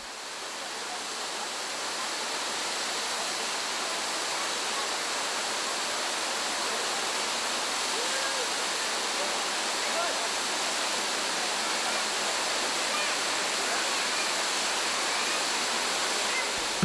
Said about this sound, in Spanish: En la segunda cascada, la formación de una piscina natural favorece el baño